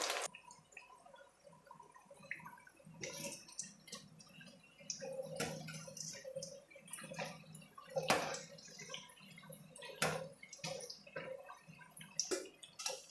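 Brinjal bajji frying in hot oil over a medium flame, a quiet and steady bubbling with scattered crackles and pops.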